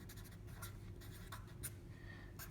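Marker writing on a board while sketching a dashed line and a label, faint short squeaky strokes in quick bursts over a quiet background hum.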